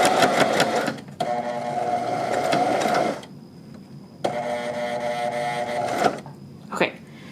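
A sewing machine stitches along quilt binding toward a pin, running in two long bursts of steady mechanical whirring broken by short pauses, with a brief click at the end.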